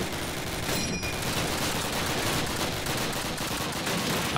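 Dense, continuous gunfire from the Call of Duty video game, rapid automatic bursts and shots layered into a steady loud barrage with no talking.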